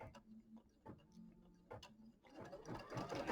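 Embroidery machine stitching placement lines through fabric and batting, a quiet rhythmic ticking and clatter of the needle that swells into a denser, louder mechanical chatter toward the end.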